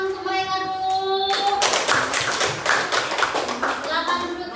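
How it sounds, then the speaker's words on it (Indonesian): Primary schoolchildren clap together in a classroom after a group presentation, a burst of brisk rhythmic claps that starts suddenly, with children's voices and a sustained tone before and after. "Oke, tepuk tangan untuk mereka dulu."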